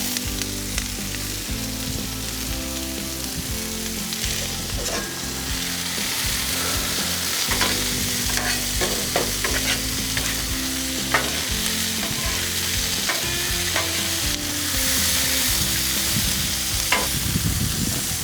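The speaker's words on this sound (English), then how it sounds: "Hear that sizzle." Steady, loud sizzling of onions frying in oil on a hot grill, with occasional scraping and stirring clicks throughout.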